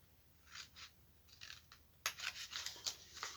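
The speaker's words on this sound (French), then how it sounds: "Donc, je vais couper mes angles." Scissors snip through the corners of a cardboard box in quick close-up cuts, a few short rasping strokes, then a louder, denser run of cuts.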